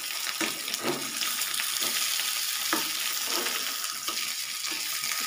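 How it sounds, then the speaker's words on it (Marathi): Chili and dhokli mixture being gently stir-fried in a pan, a steady frying sizzle with soft periodic scrapes of the spatula, close and alone with no talk. "हलक्या हाताने आपल्याला हे परतून घ्यायचं आहे।"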